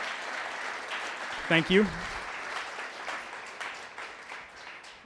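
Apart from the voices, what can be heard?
applause for sponsors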